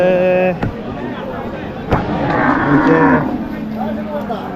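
Cattle moo loudly and close by at a busy cattle market, with several drawn-out calls over a background of crowd chatter. One sharp bang cuts in part way through.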